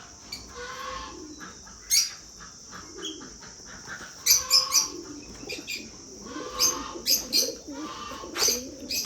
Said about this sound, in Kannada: ಎಷ್ಟು ಪಾರಿವಾಳಗಳು ನೋಡ್ರಲ್ಲ